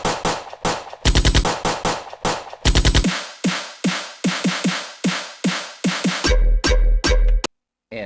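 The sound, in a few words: gunshot bass stabs made in Ableton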